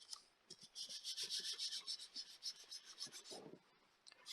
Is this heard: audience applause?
no